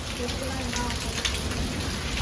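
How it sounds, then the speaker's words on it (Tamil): Heavy, steady rain pours down continuously, a dense hiss of drops hitting surfaces close by, with no pauses. "ஆனால் இப்போ அதிகமாக மழை."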